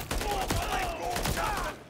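Suppressive gunfire rattles in Call of Duty Modern Warfare 3, a brief dense burst of shots heard under a man's radio-style voice.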